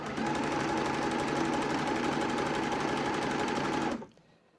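A sewing machine runs steadily stitching stretchy jersey fabric for a raglan top, a loud, fast, even whirring hum close up for about four seconds before stopping abruptly.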